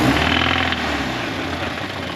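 A Toyota GT86 engine idles with a steady low rumble and a constant high whine, loud and close, the tone holding even throughout with no revving.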